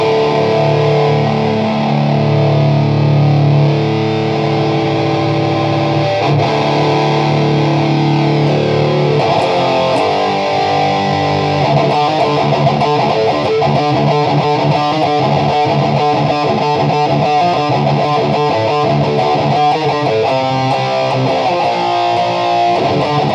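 Heavily distorted electric guitar played through the metal channel of a Bogner Alchemist amp head with the bright switch on, loud and sustained, with dense chugging riffs and chords throughout and no talking.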